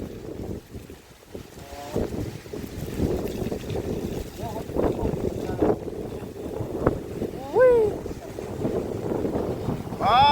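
Wind blowing outdoors around a house being tiled, a steady broadband rush with gusty swells and microphone buffeting, with someone talking over it and a few faint bird-like chirps.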